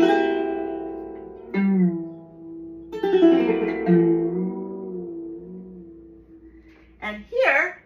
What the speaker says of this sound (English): And now we have an ancient Greek lyre.